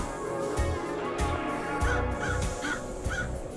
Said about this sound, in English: Are you the one making crow noises?